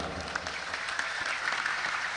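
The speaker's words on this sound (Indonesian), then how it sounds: "Tepuk tangan untuk Az-Zahid" An audience at a religious gathering applauds, a dense even patter of clapping filling the whole moment at a moderate level with no voices over it.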